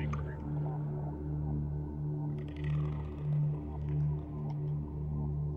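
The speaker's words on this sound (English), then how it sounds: "That is the sound of a reaper." Reaper leviathan roar from the underwater game Subnautica, played in VR with a mod, a low, droning, pulsing growl that swells and fades in slow waves over a steady underwater ambience, fairly distant and continuous.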